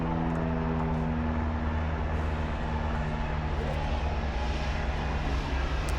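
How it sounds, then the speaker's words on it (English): Airplanes pass overhead, making a continuous, fairly loud droning engine roar with a low steady hum that stays constant for the whole stretch. "There's a lot of planes, and then we got the train."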